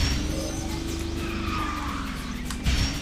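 An RC car runs a drift deceleration test with its tires skidding, giving a steady whining motor and sliding tire hiss that hold for about three seconds, close and fairly loud, ending in a brief surge.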